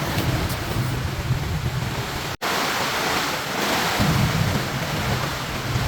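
Heavy rain and wind battering a tent during a storm at a campsite at Mata Air Ciburial in Puncak, a loud continuous roar of downpour and gusts with a brief cut near the middle.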